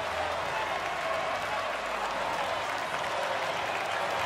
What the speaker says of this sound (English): the crowd is getting behind him once again